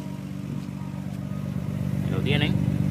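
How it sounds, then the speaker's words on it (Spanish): A 1996 Nissan Skyline GT-R R33 V-Spec idles through its exhaust, a steady low rumble close by that swells a little louder toward the end, with a voice talking over it. "Vamos a ver qué tal es el mofle así prendido."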